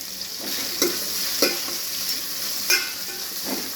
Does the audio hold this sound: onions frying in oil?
yes